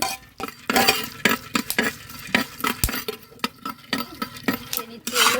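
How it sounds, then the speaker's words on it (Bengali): Pumpkin seeds dry-roast in a clay pan and are stirred steadily, producing repeated rough scraping strokes with crackles and light clinks, close and fairly loud. "মাটির এই ইয়েটাতে মিষ্টি কুমড়ো বিচিগুলো ভেজে নেব"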